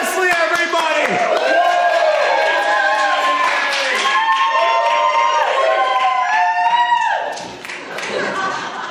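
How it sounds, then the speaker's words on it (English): Show audience bursting into loud applause and cheering for an Elvis Presley act, dense clapping with whoops and laughter sustained for several seconds before dropping off sharply near the end. "give a big round of applause for the one, the only, the king of rock and roll"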